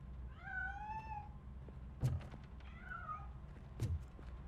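Two drawn-out cat meows in the video game Robocop: Rogue City, each followed by a sharp knock or thud, heard at moderate volume over a low background hum.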